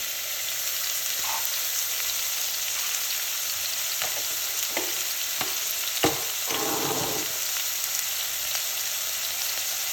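Spices, cloves and pimento seeds, stirred in a soup pot for a one-pot seafood soup, with a steady sizzling hiss throughout and a few soft scrapes and clinks of the spoon, nearby and moderately loud.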